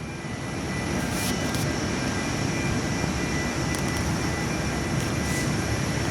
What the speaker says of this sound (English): Got a Virgin Aussie 737-800 taxiing out for takeoff.